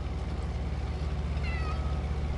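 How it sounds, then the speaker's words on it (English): A pet cat meows for food with a short tonal cry partway through, heard over a steady low engine-like hum in a room. "My cat is pestering me for food."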